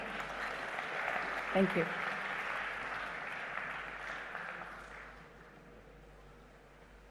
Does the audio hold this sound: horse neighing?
no